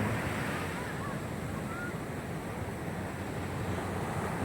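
Sea waves wash continuously onto a beach at a resort on the Zambales coast, a loud, steady surf roar mixed with wind buffeting the microphone, with no other sounds standing out.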